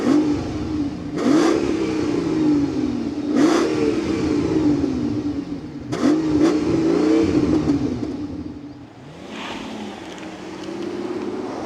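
A 2006 Mercedes CL600 V12 revs repeatedly, with four or five sharp throttle blips rising and falling over a steady idle, loud and close with no talking.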